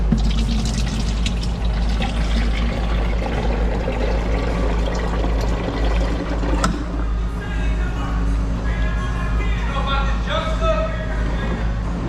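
Liquid pours steadily into a three-stage funnel on a Honda Fit with a faint trickling gurgle over a constant low engine-like hum.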